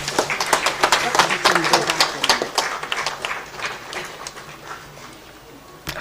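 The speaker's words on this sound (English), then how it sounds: "With a round applause, please." Audience applause at a youth and business event as a guest is felicitated, with dense clapping at first that thins out and fades over several seconds.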